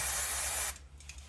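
Brake cleaner sprayed from an aerosol can onto the disc brake of a Toyota Yaris mk2 during a rotor and pad replacement: a loud, steady close hiss lasting under a second, then cutting off to faint rustling.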